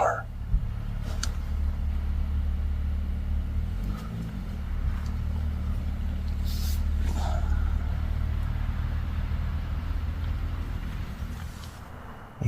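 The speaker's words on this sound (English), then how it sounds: "there's a car." A car passes at night, a low engine rumble that swells and fades across the whole span at moderate distance, with scattered faint clicks and knocks on top.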